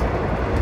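Steady broadband rumble and rattle from inside a moving train, a continuous loud roar of wheels and carriage with no distinct events and no talking.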